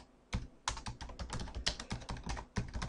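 A database name is typed on a computer keyboard, a quick run of crisp, close keystrokes in an uneven rhythm, alone without talk.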